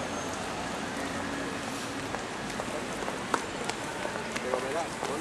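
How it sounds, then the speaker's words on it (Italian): Steady rain patters on surfaces in Plaza Grande, Quito, Ecuador, a continuous hiss with scattered louder drops, and voices talk faintly underneath. "Vedete, piove."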